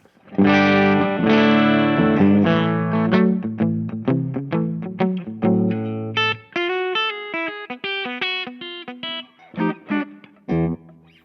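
An electric guitar plays a melodic line of sustained chords and single notes in a clean tone through a HangmanFX Atomic World Ender pedal, light ambience, playing alone.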